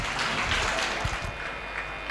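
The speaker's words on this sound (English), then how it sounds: "Give a big round of applause to all the panelists." An audience at a one-day national seminar applauds the panelists with steady, dense clapping that fills the room for a couple of seconds at even loudness.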